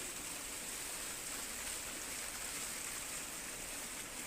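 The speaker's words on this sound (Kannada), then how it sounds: "ಎಷ್ಟೊಂದು ನೀರು ಹರಿದು ಬರ್ತಾ ಇದೆ" Steady rainwater flowing in a stream after a night of heavy rain, a soft, even hiss of moving water heard at a distance with no break or voices.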